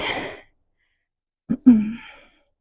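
Audible breaths during a core and stability workout: a long breathy exhale, then a short sharp gasp and a second drawn-out breath, close and fairly loud with no talking.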